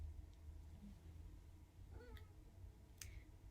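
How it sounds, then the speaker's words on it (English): A house cat lets out a couple of short, faint meows indoors against a quiet background, with a few small clicks. "That's my cat"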